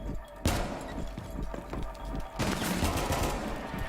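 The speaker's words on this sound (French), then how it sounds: "Juan qui va tomber sur les balles de Jobé" Rapid gunfire rattles through a tactical shooter match in a competitive league, with repeated close bursts and a sharp louder volley midway, over a steady game backdrop.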